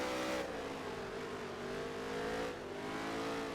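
Race car engine on a dirt course in NASCAR Heat 3, a steady droning roar that shifts pitch slightly as it runs, fairly quiet and alone without talk.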